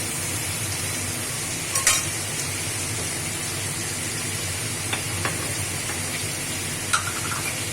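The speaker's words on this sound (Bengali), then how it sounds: "এ দেখো মাংসটা ঠিক এরকম হালকা ফ্রাই করে নিলাম" Mutton fries in a pan with salt and turmeric, giving a constant close sizzle and hiss broken by a few clinks and scrapes as the meat is stirred.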